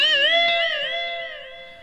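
Sustained clean electric guitar chord played through a Line 6 Helix compressor, ringing bright and steady, then slowly decaying over nearly two seconds with no talk.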